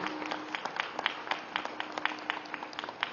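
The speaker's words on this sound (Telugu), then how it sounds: "గట్టిగా చప్పట్లు కొడదాం ఈ ఇద్దరు మాస్టర్స్కి" An audience claps together for two spiritual masters at a gathering, a dense, even patter of many hands continuing steadily at moderate distance with no voices over it.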